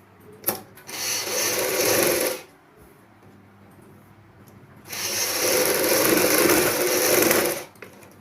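A sewing machine runs in two steady bursts of rapid stitching, each about a second or three long and separated by a short pause, sewing the lining of a choli blouse.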